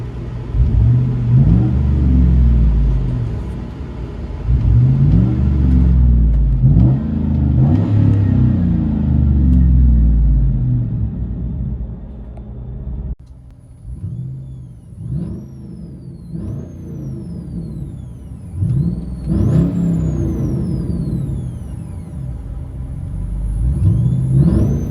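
Chevy Avalanche LTZ with a 5.3L V8 and straight-pipe exhaust, heard from inside the cab, rumbles loudly through repeated revs, dropping back to a lumpy idle between sharp bursts of acceleration.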